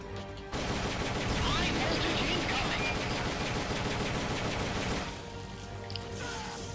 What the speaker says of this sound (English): shooting the boosters with the rifle doesn't seem to do much